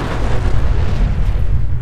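A thrown grenade goes off in Fallout 4 with a loud, deep blast whose low rumble rolls on for nearly two seconds, with no speech over it.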